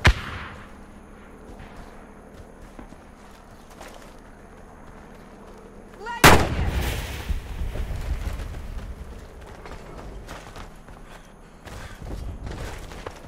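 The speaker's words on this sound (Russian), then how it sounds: "Бросаю гранату!" Warface shooter gameplay: a quiet stretch of faint movement gives way to a sudden loud grenade blast at the midpoint, followed by rumbling gunfire and combat noise.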